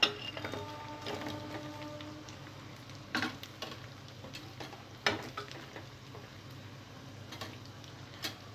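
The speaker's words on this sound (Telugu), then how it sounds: "అల్లం వెల్లుల్లి పేస్ట్ బాగా ఫ్రై అయిన తర్వాత ముందుగా ఫ్రై చేసి పెట్టుకున్న చికెన్ ముక్కలు వేసుకోవాలి" Chicken pieces frying in ginger-garlic paste for a chicken pickle, a soft steady sizzle with occasional clicks and stirring knocks, fairly faint and without talk.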